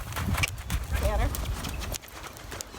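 Horse cantering on sand during lunging: rhythmic thudding hoofbeats close by, mixed with a person talking over them.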